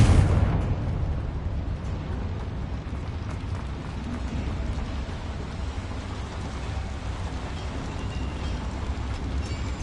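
A Confringo spell explodes in the video game Hogwarts Legacy with a sudden loud burst that decays into a long, low, rumbling wash of debris and fading noise.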